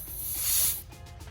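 A can of compressed air sprays into the sensor reading forks of a kPulley2 in one sharp hissing blast lasting under a second, close up, then cuts off.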